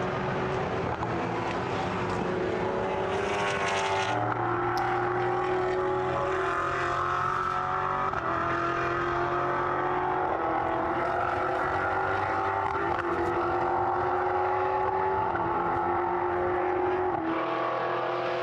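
Endurance prototype race cars howling past at Portimão circuit, sustained high engine tones shifting pitch as they accelerate and change gear, continuous and loud with overlapping cars, no voices.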